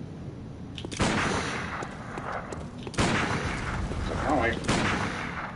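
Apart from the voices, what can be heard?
sniper gunshots in the video game Bloodborne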